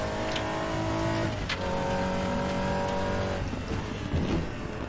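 GT4 race car in the RaceRoom racing game, its engine droning steadily with harmonic pitch shifts as it revs up and down through gears, with a brief tire squeal amid continuous close engine noise.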